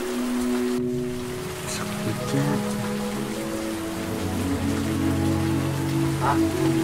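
Heavy rain pours in a steady, dense hiss on surfaces throughout, with a low hum and faint background sounds mixed in, continuous and moderately loud.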